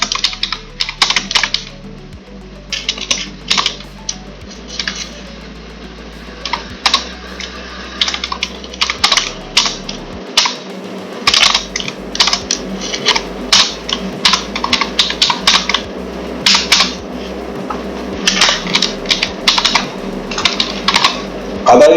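Continuous typing on a computer keyboard while filling in a CRM software form, loud close rapid clicks in bursts throughout, with a steady low hum underneath.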